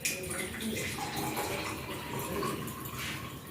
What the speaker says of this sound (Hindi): ये पानी को मैं एक गिलास के अंदर डाल रहा हूँ।